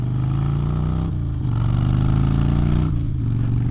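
A motorcycle fitted with a loud, illegal aftermarket exhaust revs hard and close, a rough, sustained engine roar that dips briefly twice and climbs back up, with no talking.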